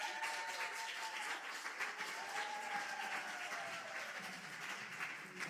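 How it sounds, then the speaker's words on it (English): A church congregation applauds its volunteers with a continuous wash of clapping from many hands that holds steady throughout, with no speech over it. "And let's applaud you all."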